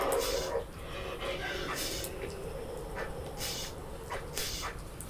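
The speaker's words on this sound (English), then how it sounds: "It's unnecessary for you guys to bark at shit like that." Pet dogs at home bark in short scattered yaps and whimpers, with a person talking loudly over them throughout.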